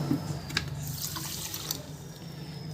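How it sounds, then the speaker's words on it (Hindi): Water pours steadily from a bowl into another bowl of sugar to make syrup for homemade rasgulla, a continuous close splashing stream with no talk. "2 कटोरी इसमें पानी डाल दूँगी।"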